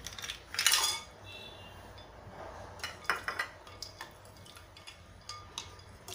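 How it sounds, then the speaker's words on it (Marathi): Ice cubes drop into a steel vessel of spiced buttermilk (mattha), giving a burst of bright clinks and rattles followed by scattered lighter taps and knocks, close and fairly quiet, with no talking. "यात आपण हे आईस क्यूब घालूया."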